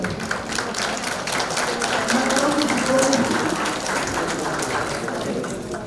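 Audience applause fills a hall at an academic pre-congress, a dense, steady patter of many hands clapping at moderate level with a faint murmur of voices underneath.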